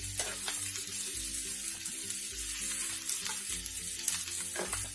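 Sliced onions fry in a ceramic pan for Cuban vaca frita, a steady close crackling sizzle with occasional pops, while a low hum sits underneath.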